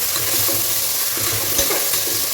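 Potatoes and onions fry and sizzle in a pan for a Tamil Nadu-style cabbage potato sabzi, with a steady broadband crackle and repeated scraping stirs throughout, close and fairly loud, no talking.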